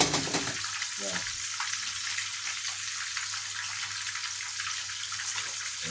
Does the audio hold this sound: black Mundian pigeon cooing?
no